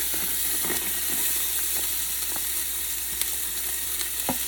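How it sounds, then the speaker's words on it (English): Half a diced yellow onion sautés in a pan for a Japanese-style pork curry, a steady close sizzle with occasional light spoon taps and stirs, no voices. "that's gonna get sauteed for a couple of minutes or until the onions are translucent"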